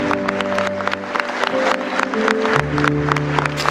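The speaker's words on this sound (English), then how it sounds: "Give them a mighty round of applause." Wedding guests applaud a newly married couple at the close of their vows, a steady wash of clapping over sustained music tones that shift partway through.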